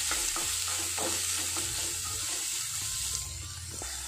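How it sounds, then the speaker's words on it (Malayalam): Chopped onions sautéing in a pan for idli masala, a steady close sizzle with repeated scraping stirs of a spoon, loud and continuous with no talking. "ഇനി ഇതിലേക്ക് നമുക്ക് ഉള്ളി കട്ട് ചെയ്ത് വെച്ച ഉള്ളി കൂടെ ചേർത്ത് കൊടുക്കുക."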